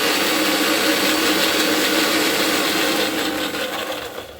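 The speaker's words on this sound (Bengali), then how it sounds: "তো চলো এটাকে একটুখানি আগে আমি বেটে নিই" Electric grinder blending rice and lentils into a paste, a loud, dense, continuous whirring drone held close for a few seconds and tapering slightly at the end.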